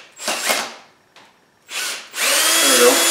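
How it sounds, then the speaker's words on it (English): A cordless drill in low gear whirs in short bursts, loosening a chuck screw, two brief spins followed by a longer, louder run, close up with no talking. "we're going to use the strength of the drill"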